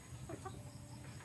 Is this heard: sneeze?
no